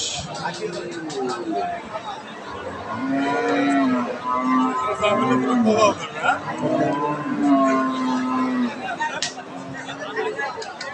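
A four-tooth dairy cow lows at a busy cattle market, long drawn-out moos rising over a crowd's babble and nearby chatter, close and fairly loud.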